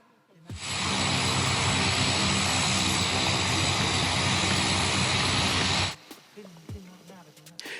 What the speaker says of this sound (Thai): เครื่องยนต์จากเครื่องบินสกายแวนที่กำลังอุ่นเครื่องอยู่นี่แหละ